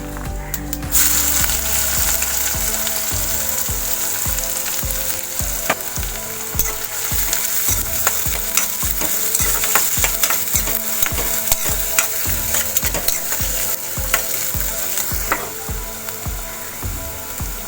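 Cumin, fennel and onion fry in hot oil with a loud, steady sizzle throughout, and a spoon repeatedly scrapes and clicks against the pan. No one talks.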